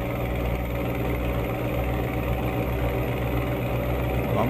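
Scania R480 truck engine in Euro Truck Simulator 2 climbing a mountain road in southern Paraná, a steady, loud, deep continuous drone with no pauses or talking.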